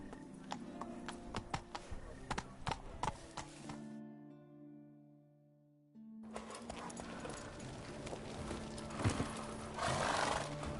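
A horse in The Witcher 3 video game, hooves clip-clopping in an irregular rhythm with snorts and a neigh, broken by a few seconds of near silence with a faint tone before the hoofbeats and louder movement return.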